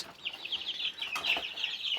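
Andijan black hens cluck and chatter steadily indoors inside a room, a close, busy run of short calls without any voice over them.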